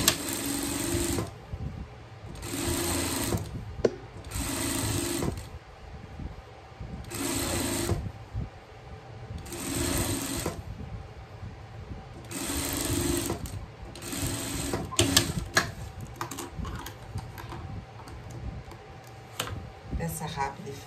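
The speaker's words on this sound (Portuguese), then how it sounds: "tanto faz o lado que você for fazer a bainha" A sewing machine stitches a hem on pet underwear in repeated short, fast buzzing runs separated by pauses, with someone speaking Portuguese quietly between the bursts.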